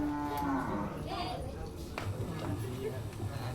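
A cow moos at a village devotional gathering in Kheralu, Gujarat, a few low calls standing out against background voices and chatter.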